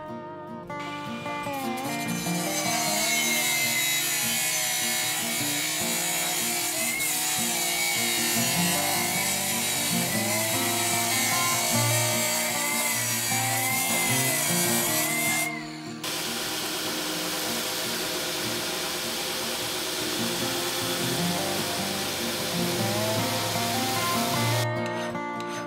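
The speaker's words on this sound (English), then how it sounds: "I mark out the excess material and then I grind it off using the big angle grinder." A big angle grinder grinds excess material off a forged axe head, giving a loud, continuous abrasive whine that runs almost the whole time with one brief break partway through.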